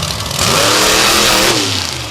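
The Ballistic monster truck's big engine revs hard in an Augusta, Georgia arena, a loud, rough roar that swells quickly and then holds for a couple of seconds.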